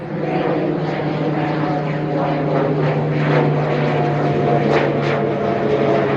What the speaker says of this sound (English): I'm going to show you the jet, or the airplane.